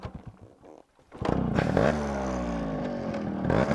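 A Yamaha RX100 two-stroke motorcycle starts after a few quiet clattering seconds, then settles into a loud, close idle with rising and falling revs and a sharp, buzzy crackle.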